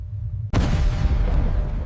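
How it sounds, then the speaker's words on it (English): Explosion of a 6-inch naval shell striking a destroyer and setting off its magazine, a sudden loud boom that cuts in after a brief hush and rolls on as a dense, sustained roar. "the first American 6-inch shell struck the lead destroyer, turning its magazine into a massive fireball"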